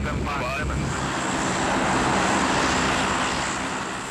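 A C-130 transport aircraft's engines produce a loud, steady turboprop roar that swells slightly and then eases, with a voice speaking over it.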